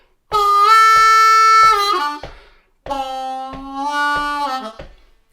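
Closing lick number 6 of a song on a G harmonica: two long, loud, reedy held phrases separated by a pause, with a steady rhythmic click keeping time beneath, played alone.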